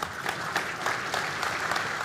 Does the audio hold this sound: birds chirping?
no